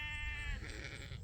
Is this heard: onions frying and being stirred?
no